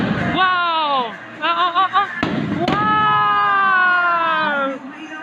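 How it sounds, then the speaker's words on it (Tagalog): Fireworks burst outdoors with a couple of sharp bangs, nearly buried under loud, sustained excited shouting and cheering from people close by. "Fireworks!"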